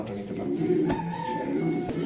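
A racing pigeon coos softly amid a pigeon loft, low throaty rolling calls repeating under a light background murmur.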